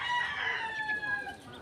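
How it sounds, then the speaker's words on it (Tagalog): Chickens and a rooster crow and cluck outdoors on a breezy countryside outing, a drawn-out crow rising through a steady wind-blown background. "Dami ng manok."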